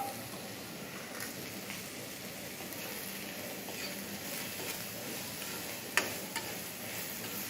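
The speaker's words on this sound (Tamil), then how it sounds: "எண்ணெய் வச்சுட்டு இது சக்கரை பூசணிக்காய் நறுக்கி வச்சுருக்கேன் ஒரு கப்புக்கு, அதை அதில் போட்டு நல்லா வதக்கிக்கலாம்." Chopped sweet pumpkin sizzles gently in hot oil in a pan, a continuous soft frying crackle with occasional stirring scrapes and one sharp tap near the end.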